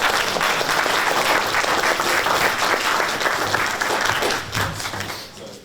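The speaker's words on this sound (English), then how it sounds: "Let's give him a round of applause." An audience at an officers' leadership event gives a full round of applause, dense and sustained, fading slightly at the end.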